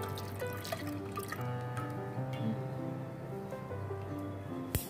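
Water dripping and trickling as rinsed chhena, lemon-curdled milk for rasmalai, drains, a quiet irregular patter of drops with a louder splash at the end.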